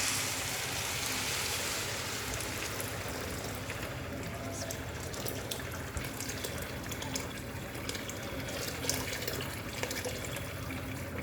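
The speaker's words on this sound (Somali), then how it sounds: "marka biyaha ku shubeyna insha Allah" Water is poured steadily into a pot of rice, making a continuous splashing, gurgling stream close by for about eleven seconds with no pause.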